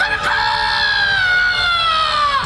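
A performer's voice imitates a rooster crowing during a student skit at a college fest: one loud, drawn-out cock-a-doodle-doo lasting about two seconds, close and alone with no talk.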